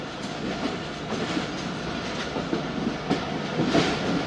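The Jaffar Express from Peshawar Cantt to Lahore rolls slowly over freshly changed sleepers, with a loud steady rumble and rhythmic clickety-clack of the wheels heard from inside the carriage and no talking.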